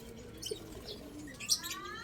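Kept pigeons coo softly in an aviary amid faint chirps from other caged birds, with a brief flutter of wings, all fairly quiet and close.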